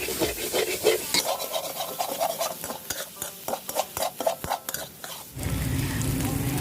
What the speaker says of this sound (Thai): จากนั้นนะคะทำการคั่วให้มันเข้ากันเลยค่ะ